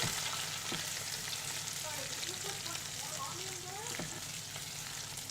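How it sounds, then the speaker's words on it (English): Onion frying in a pan over a gas flame at medium-high heat, a steady dense sizzle and crackle with scattered pops, faint voice-like tones drifting underneath. "While the onion is cooking"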